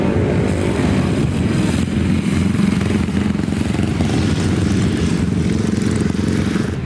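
Grasstrack motorcycles racing at a 1993 meeting in High Halden, engines snarling loud and continuous, a dense pack of bikes revving steadily throughout with no pauses.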